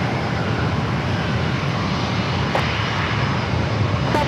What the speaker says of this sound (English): That's Southwest flight coming in from Oakland, flight 1110 at 737-800.